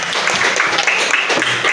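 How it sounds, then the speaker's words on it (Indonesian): A classroom group claps, dense and lively, filling the short moment with a burst of applause and faint voices mixed in. "Aplaus dulu untuk Kak Iril dengan Rara"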